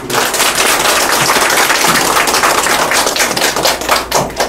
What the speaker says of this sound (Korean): 힘찬 박수로 최경정 후보를 맞이해주시기 바랍니다